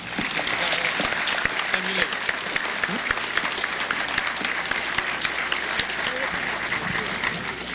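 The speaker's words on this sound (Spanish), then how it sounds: "Fuertes palmas, por favor." Strong applause from the audience at a cultural centre inauguration ceremony, many hands clapping steadily and loudly with individual sharp claps standing out, sustained throughout with a faint crowd murmur underneath.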